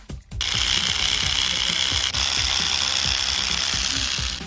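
An electro-sanding pen driven by a reciprocating accessory starts abruptly and then runs as a loud, steady buzzing drone with a fast ratcheting rattle and a high whine, with no voices.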